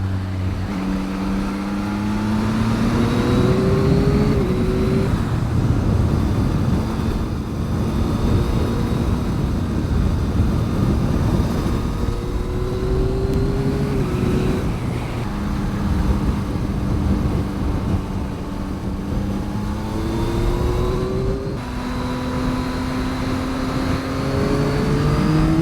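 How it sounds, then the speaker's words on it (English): Yamaha MT-09 motorcycle with an untuned aftermarket exhaust being ridden on a road, the engine droning steadily with repeated rising revs through the gears and loud wind rush throughout. "if you put a cheap exhaust on your XSR 900 or MT09 and don't get it tuned, probably not going to feel great"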